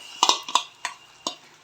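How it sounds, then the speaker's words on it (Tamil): A utensil stirs mashed sweet potato in a pan, giving about five sharp, close clinks against the metal in a loose, uneven rhythm. "நல்லா கலந்து விட்டுட்டே இருங்க."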